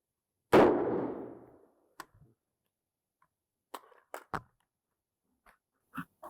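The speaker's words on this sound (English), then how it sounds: "So we picked up a round, it fired, and it ejected." A single loud AR-15 rifle shot rings out close, followed by the sharp metallic clacks of the action ejecting the spent case and a few scattered clinks in an otherwise quiet space.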